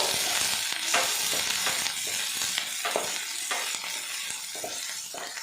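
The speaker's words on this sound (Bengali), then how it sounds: "পেঁয়াজটা হালকা করে ভাজা ভাজা করে নেব" Chopped onions frying lightly in a pan, a continuous near sizzle with repeated scraping stir strokes at an irregular rhythm, no talking.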